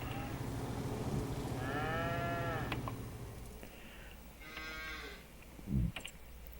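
Cattle lowing in the Farming Simulator 25 game: two drawn-out moos stand out over a steady low hum of farm ambience, the first around the middle of the clip and a second, shorter one later, followed by a brief deeper thump.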